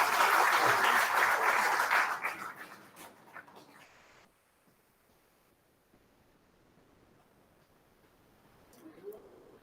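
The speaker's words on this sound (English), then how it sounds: "Can we have a huge round of applause" Audience applause at the opening ceremony of an IEEE conference on sustainable power and energy systems, a broad burst of clapping for about two seconds that quickly tapers off into a quiet room.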